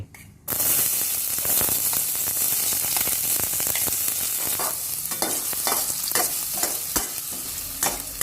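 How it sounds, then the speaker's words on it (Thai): Shallots stir-frying in hot oil for a tom yum seafood spaghetti sauce: a loud, steady sizzle bursts in after a brief quiet start, broken by repeated scraping stirs, with no talking. "ผัดให้หอมนะครับ"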